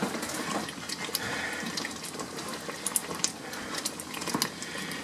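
Peach and honey jam simmers in a pot, giving a soft, continuous bubbling and popping with small irregular blips, faint and close, with no talking.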